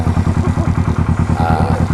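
A used Kawasaki Ninja 650R motorcycle running close by, its parallel-twin engine giving a loud, steady, evenly pulsing idle throb with no talk over it.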